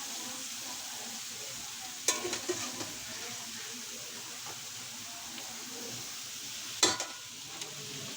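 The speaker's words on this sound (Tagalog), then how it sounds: "Okay, haluin na natin." Adobong sitaw, string beans, is stirred in a pan, a quiet low sizzle running throughout, broken by two sharp clanks of the utensil against the pan.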